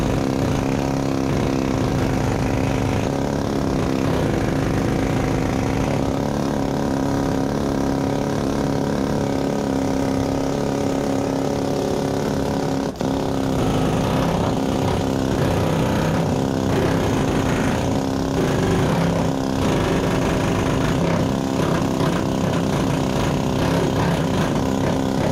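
An old air hammer cuts through sheet metal on a car floor, a steady, loud, continuous pneumatic rattle droning without break, with no talk over it.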